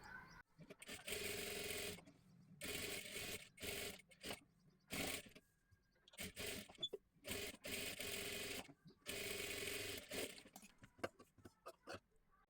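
A sewing machine stitches the lining of a blouse in several short bursts of whirring, separated by brief pauses and handling noise, fairly close.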